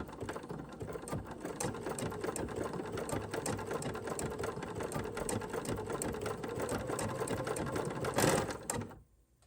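A sewing machine fitted with a narrow presser foot runs steadily while hemming cotton napkins, its close, rapid needle chatter sustained for several seconds before a brief louder clack and then a stop.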